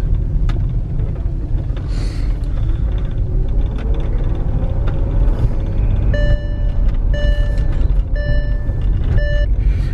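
A 2009 VW Touareg TDI drives along a road with a steady low engine and road rumble throughout, while a series of short repeated electronic beeps sounds in the second half.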